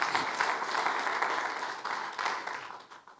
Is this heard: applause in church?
yes